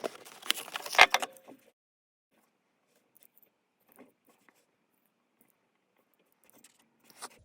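Someone opens a 1968 Hot Wheels Silver Series Vintage Club toy car package: a close, busy burst of crinkling plastic and tearing cardboard lasting about a second and a half, then near silence broken by a few faint small clicks.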